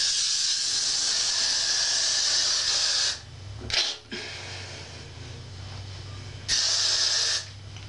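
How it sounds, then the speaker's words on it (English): Two long steady hissing sprays from an aerosol hairspray can, a brief burst of breath or rustle between them, close and loud. "You're literally going to spray your face."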